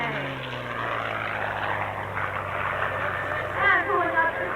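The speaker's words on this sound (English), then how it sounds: "for your viewing pleasure, the North American P-51 Mustang" A North American P-51 Mustang fighter flies past at a 1994 air show in Clark County, Indiana. Its propeller engine gives a loud, steady droning roar with a low humming tone that swells briefly near the end of the pass.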